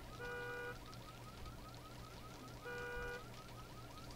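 An alarm left on in the video game Visage repeats in two bursts of shrill electronic tones, separated by a constant pulsing beep over a low background hum, moderately faint.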